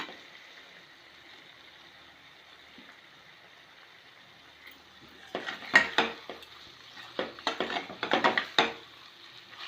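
Finished mutton chukka is moved from the pan onto another plate: after a quiet stretch, a run of close metallic scrapes and clinks from a spoon against the cookware.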